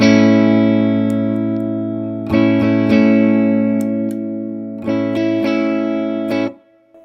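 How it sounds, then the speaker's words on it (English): A DIY filter box with a hardwired 22N capacitor and a 10K pot sweeping across a sustained, bright harmonic tone, played alone in three held passages with brief breaks and steady loudness until a sudden cutoff at the end. "if we were to hardwire here in this circuit a 22N, and we wanted to leave a variable resistor like a pot, we would have a sweep that sounds like this."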